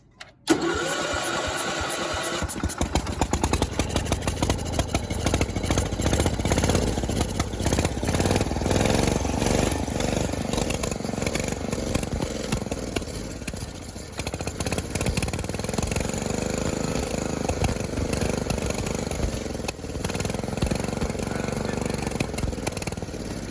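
A boosted lawn mower engine is started with a squirt of fuel and then keeps running, a steady loud rattling drone close by that continues throughout after a brief cranking start.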